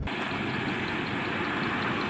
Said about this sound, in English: It's so quiet, I can only hear the engine.